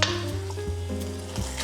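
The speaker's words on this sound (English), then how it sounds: "So we will start by searing the meat." Meat searing in olive oil in a hot pan gives a loud, steady sizzle close up, with a few soft clinks from the pan and no voices.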